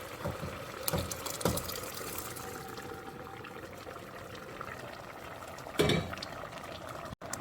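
Chickpea masala gravy (chana masala) simmers in a pot with a steady low bubbling and a couple of louder pops or clinks, close and alone.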